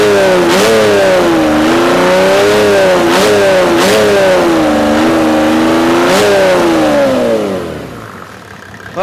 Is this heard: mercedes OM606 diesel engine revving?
yes